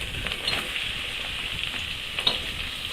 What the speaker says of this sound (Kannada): ಈಗ ನಮಗೆ ಈರುಳ್ಳಿ ಹಾಕ್ತೀನಿ